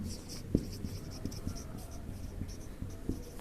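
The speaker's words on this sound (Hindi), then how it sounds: "तो देखो हम यहाँ लिखते हैं, क्या लिखेंगे यहाँ" Chalk or marker strokes on a classroom board during a Class 10 science lesson on metals and non-metals: light, scattered taps and scratches across several seconds, faint and fairly close, with no talking.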